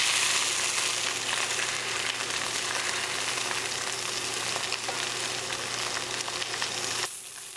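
Sausages browning in a hot pan for Sunday gravy, a steady close sizzle and crackle of frying fat that runs without pause and drops away sharply near the end.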